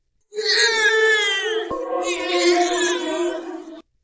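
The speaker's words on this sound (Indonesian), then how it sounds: "Dan malam itu terdengar suara tangisan bayi di pinggir pantai." A baby cries on a beach at night, two long wailing cries close and loud, with a brief click between them.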